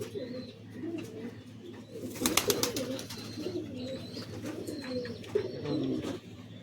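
Red-eyed pigeons at a bird market coo in soft, overlapping rounds over a steady murmur, with a brief burst of sharper chirps midway and no clear talk.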